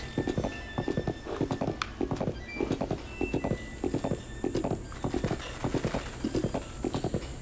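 Horse hooves in the Breath of the Wild video game, a rhythmic clip-clop of galloping in quick repeating clusters, steady and close, with a faint whinny near the start and no talk.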